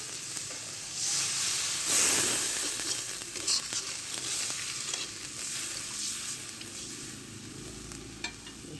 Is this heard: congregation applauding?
no